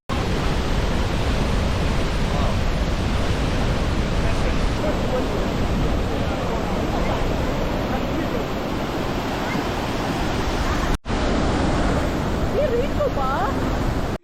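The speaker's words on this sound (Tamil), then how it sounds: "இந்த முர்ஷிஷன் வாட்டர் ஃபால்ஸ்ல தண்ணி எவ்வளோ வேகத்துல கீழே விழுது" Murchison Falls on the Nile River, where the river squeezes through a narrow gap, roars as a dense, constant, loud rush of falling water, with someone speaking faintly underneath.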